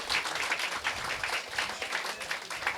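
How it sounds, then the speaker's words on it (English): An audience at a startup demo day claps for the founders who pitched, a brisk, moderately distant round of applause that continues evenly for a few seconds with no talking. "give our 8 pitches, all of our 8 founders who pitched, another round of applause"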